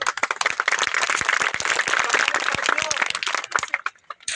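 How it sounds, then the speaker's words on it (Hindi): An audience at a Dr. Bhimrao Ambedkar birthday event in Jaunpur, India applauds with dense, lively clapping, loud and sustained before thinning toward the end. "ये जो ताली बजा रहे हैं लोग"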